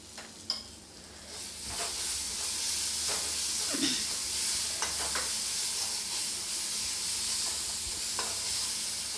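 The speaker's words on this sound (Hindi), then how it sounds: "अब मैं मसालों को लगभग आधा मिनट तक और भूनूंगी ताकि कसूरी मेथी भी भूनकर तैयार हो जाए" Spices and kasuri methi sizzle and roast in a pan for a bitter gourd dish, a steady soft frying hiss with occasional stirring scrapes, close and moderately quiet with no talking.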